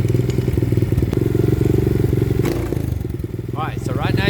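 A 125cc pit bike fitted with a Nibbi 22mm carburetor idles with a close, throbbing engine note, then revs up sharply with rising pitch near the end.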